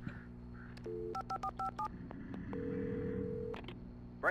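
A telephone is dialed in the Alan Wake video game: a series of short, evenly spaced keypad tones, then a longer steady tone, all set against low game ambience.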